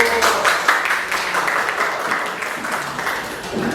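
A classroom of students gives a round of hand clapping, a moderately loud, busy patter that carries on steadily before easing slightly toward the end.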